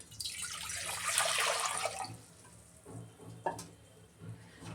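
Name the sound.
pouring water into a cooking pot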